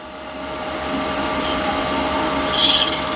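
Lathe cutting an acrylic workpiece gives a steady whirring hum with a rising, brighter scraping hiss toward the end, close and continuous with no talk.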